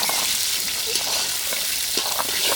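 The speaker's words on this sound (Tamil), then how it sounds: "வெங்காயம் தக்காளி இஞ்சி பூண்டு எல்லாமே எண்ணெயிலே வதக்கி எடுத்துக்குவோம்" Onion, tomato, ginger and garlic sauté in oil in a pan, giving a steady, close sizzling hiss with soft stirring scrapes and no voices.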